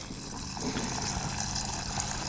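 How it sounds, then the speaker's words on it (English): Water poured steadily into a pot of rice at a family campsite, a continuous close splashing and trickling fill with no talk over it. "Now we're gonna add the water."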